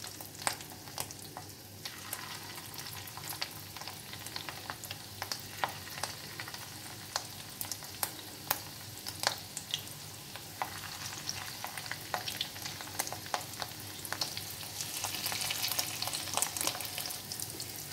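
Small fish egg fritters (pakoras) deep frying in a pan of hot oil, a steady close sizzle with crackling pops throughout, growing slightly louder near the end, with no voices.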